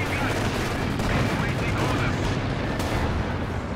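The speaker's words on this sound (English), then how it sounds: "A lot of AT guns here." Anti-tank guns and other weapons fire during a 2v2 Company of Heroes 2 match, a dense, continuous barrage of booming gunfire and battle noise that stays loud and steady throughout.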